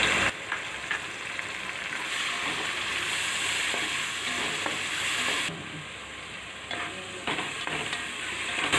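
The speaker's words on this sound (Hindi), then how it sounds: "अब हम इसमें ये अदरक, लहसुन और हरी मिर्ची का पेस्ट डालकर भून लेंगे।" Steady sizzling of ginger, garlic and green chili paste frying in hot oil, with occasional stirring scrapes and clinks, close and continuous throughout.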